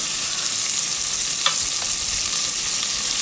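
Onions sauté in hot oil for a vegetable biryani, a steady close sizzle and fry with a couple of faint stirring scrapes, continuous and loud with no talk.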